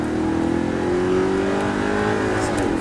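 An Audi R8 engine on a race track, loud and close, its pitch sliding steadily as it downshifts under braking, with the revs flaring briefly near the end.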